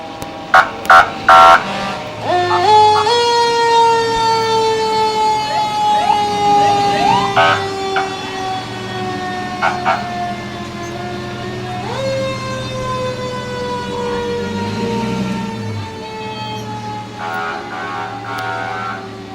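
A Festus Fire and Rescue fire engine siren wails loudly through a Christmas parade, its rising and falling tones sustained throughout with a few short horn blasts at the start and end.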